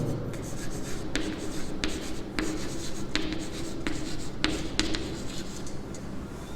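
A pen writes on paper close up during a coordinate geometry math lesson, making a steady scratchy rub broken by sharp taps where strokes begin and end, with no talking.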